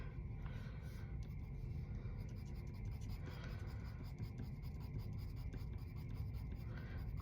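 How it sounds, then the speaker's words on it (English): Colored pencil scratches steadily across paper in quick, close strokes, building a furry texture with a continuous soft rasping scrape and no pauses. "I'm gonna take my pencil and try to make some of that furry texture"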